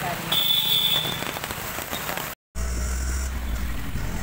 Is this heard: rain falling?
yes